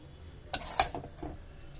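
Green tomato jhal stirred and fried in a pan: a soft sizzle with a couple of sharp spatula scrapes and clinks against the metal, close by.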